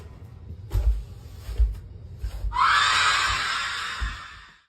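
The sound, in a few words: guttural shriek in a ghost video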